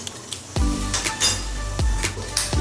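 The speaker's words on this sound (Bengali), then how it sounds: "আমি এখানে ফোড়নটিকে 30 সেকেন্ড ভেজে নিচ্ছি" Dry red chillies, a bay leaf and cumin fry in two spoons of hot oil for dal, giving a steady hiss broken by a few sharp clinks of a metal utensil against the pan.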